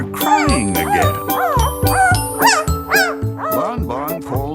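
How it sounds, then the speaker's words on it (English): A puppy cries with high, wavering whimpers and yelps in repeated bursts, over a steady background of music and small jingling sounds. "But even a gentle nudge from Bon Bon gets Seymour crying again."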